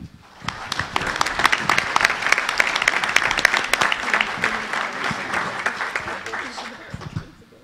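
A conference audience claps to welcome a session moderator, with sharp individual claps building quickly into sustained applause that holds and then tapers off toward the end.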